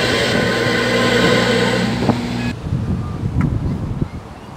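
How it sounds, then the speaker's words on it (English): A train rumbles through Bangor on a blustery day. A dull, steady rail and engine roar with wind noise, sometimes broken by faint tonal whines, distant to moderate in level, with no talking. "One of the things we noticed in Bangor was the sound of a steam train."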